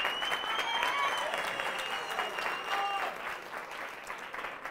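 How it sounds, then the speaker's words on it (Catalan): Studio audience applauding on a television word-spelling quiz show, steady close clapping that fades slightly toward the end, with tonal sounds and brief voices mixed in. "ara seus amb aquest aplaudiment que et fa el públic"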